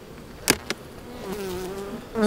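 Honey bees at a hive early in the season give a steady insect drone with a soft hum, broken by two sharp knocks near the start and a louder buzz swelling at the end.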